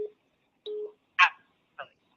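Telephone keypad dialing tones, four short separate beeps pressed at uneven intervals, close and clear with silence between them.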